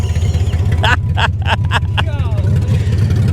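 A BMW 325xi E46 with all-wheel drive idles with a steady, low engine rumble up close, while several short bursts of speech and noise sit over it near the middle.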